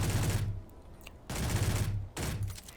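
Rapid full-auto bursts from the S10A pistol in Space Engineers, three loud, dense rattling volleys separated by brief pauses, close and dominant with no voice over them.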